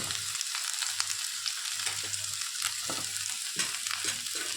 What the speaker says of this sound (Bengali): একটু হয়ে গেছে ভাজা, এবারে আমরা দিয়ে দিচ্ছি ডাঁটাগুলো